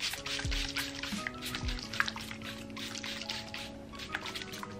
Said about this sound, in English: Let's put some water.